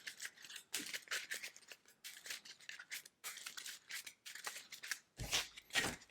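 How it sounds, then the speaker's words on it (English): A deck of cards for the Legendary Marvel deck-building game is shuffled, giving repeated crisp riffling bursts in an irregular rhythm, close and fairly loud, with a sharper louder burst near the end and no talking. "I do need to shuffle everything back again."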